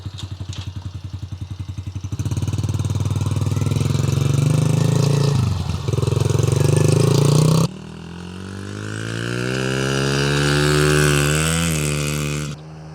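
Kid's electric-start semi-automatic dirt bike, a Yamaha TT-R 110 or Suzuki DRZ 50, idles with a steady putter, then loudly revs and pulls away, engine pitch climbing through gears, fairly close and alone.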